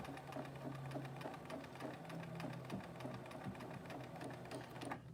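A sewing machine hums and rattles in quick, even stitching bursts, close by and moderately quiet, with brief pauses in the rhythm.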